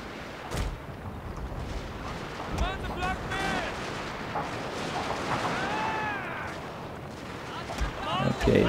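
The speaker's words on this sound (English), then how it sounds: "Unleashed one hell of a gun barrage on you." A gun and artillery barrage in the video game Shogun 2: Fall of the Samurai, with repeated booming shots and rumbling blasts over a continuous battle din, under in-game voices and commentary.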